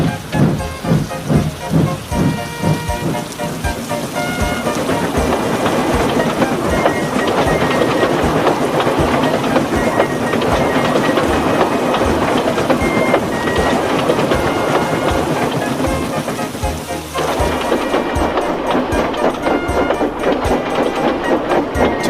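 A train pulling coaches rumbles steadily along the main line with rhythmic clatter, loud and sustained for a long stretch, then settles into a lighter, quieter rattle near the end.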